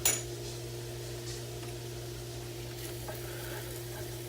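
Minced garlic frying in a pan for a chicken burrito, giving a steady soft sizzle under a low hum, with a brief louder burst at the start and a few faint clinks later.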